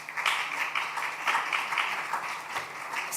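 A conference audience claps in a steady, fairly light patter that continues for the whole stretch, with no voices standing out above it.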